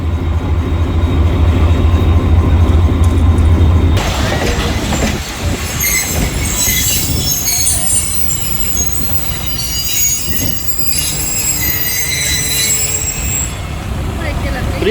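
A commuter train in Hyderabad rumbles and clatters nearby as it pulls away, wheels squealing and rails clacking under a steady roar.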